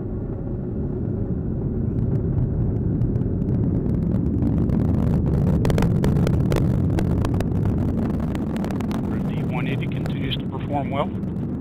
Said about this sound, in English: Booster engine continues to look very good.